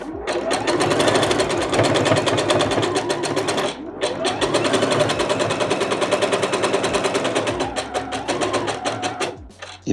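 A sewing machine stitches a shortened skirt hem in rapid, loud, close bursts of needle clatter, stopping briefly, then backstitching over the same stitches to lock the seam before halting, with talk in French over it.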